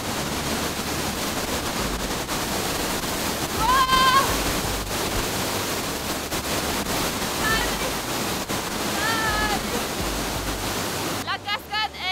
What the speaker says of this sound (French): La cascade, elle est impressionnante. On est vraiment à la tombée de l'eau et on se prend tout dans la gueule.